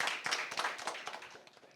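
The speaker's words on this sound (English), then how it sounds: "Please clap her again." A school audience at a spelling contest claps for a contestant in a brief burst of many hands that fades away quickly.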